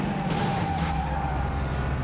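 In the PS1 racing game Vanishing Point, a car drives close behind the player's car, with loud, steady engine and road noise throughout.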